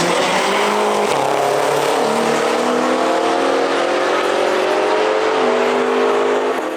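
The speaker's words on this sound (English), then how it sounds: "One of the only F10 M5s at the event was putting in some work." A BMW F10 M5 accelerates hard down a drag strip at a Euro drag event. Its engine roars loudly and steadily, and the pitch climbs through clear gear shifts with constant background noise.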